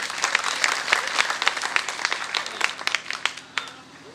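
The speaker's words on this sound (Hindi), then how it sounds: "एक बार जोरदार तालियां बजा के आ दे" Enthusiastic applause from an audience at a Hindi poetry recitation, dense clapping with sharp individual claps standing out, sustained throughout and tapering slightly at the end.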